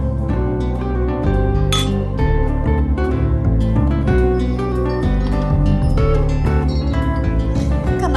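Glasses clink together in a toast, giving bright, ringing chimes over a continuous, loud bed of sound with no talking.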